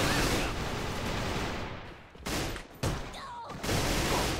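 Rapid automatic fire from an R4 Lizard 2F rifle in the online shooter AVA, a dense continuous stream of shots with a couple of brief pauses, loud and close.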